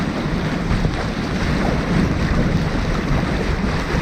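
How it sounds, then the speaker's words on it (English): A strong headwind buffets a sailboat under sail, a loud, unbroken roar of wind across the microphone mixed with rushing water along the hull. No one speaks. "Too much of a headwind."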